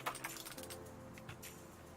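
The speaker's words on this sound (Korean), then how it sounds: "에코해커 K660 기계식 키보드입니다." A mechanical keyboard, an Abko Hacker K660 with Kailh blue clicky switches, typed on in a steady run of quiet, close keystrokes with no talking.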